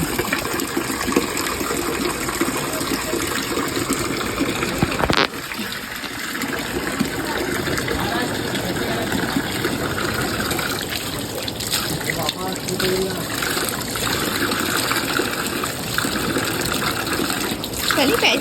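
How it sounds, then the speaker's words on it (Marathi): Steady rushing water pours from a Nandi statue's mouth at an ancient Shiva temple in Konkan and splashes nearby, a continuous gush that fills the scene, with faint voices in the background. "ते नंदी त्यांच्या तोंडातून पाणी येतं म्हणजे"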